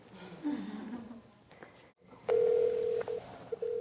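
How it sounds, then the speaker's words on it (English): A cell phone placing a call, with soft tones followed by a loud, steady ringback tone that pauses and resumes, heard close and alone without talk. "So here we go. Dan Wagner on my cell phone."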